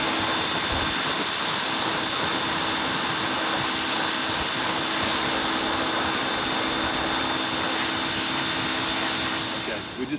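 Water sprays hard and steadily onto a whitetail deer skull during cleaning, a loud continuous hiss that holds for the whole stretch and tapers off at the end.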